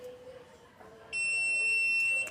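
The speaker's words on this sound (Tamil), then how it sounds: "இந்த பீப் சவுண்டு கேட்குது பாருங்கள்." An LG single-door fridge thermostat gives off a steady electronic beep that starts partway through and holds as a continuous high tone over faint background hum, with no talking.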